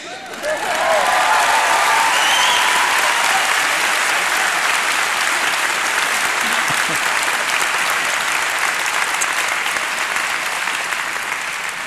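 A large crowd bursts into loud, sustained applause that rises quickly and holds steady, dense clapping filling the space with scattered cheers.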